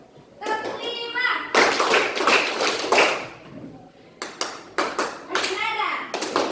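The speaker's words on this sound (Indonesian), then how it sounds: "Tepuk 5." Schoolchildren clap in quick groups of beats during a classroom counting game, the bursts of hand claps alternating with an adult's spoken prompts and children's chatter nearby.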